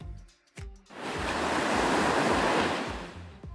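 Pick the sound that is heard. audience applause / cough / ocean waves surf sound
ocean waves surf sound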